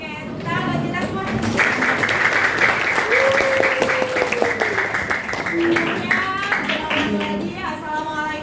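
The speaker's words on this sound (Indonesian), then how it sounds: "Oke, tepuk tangan kita semua." A primary school class claps together in a classroom, a sustained burst of applause from many hands with children's voices and shouts mixed over it.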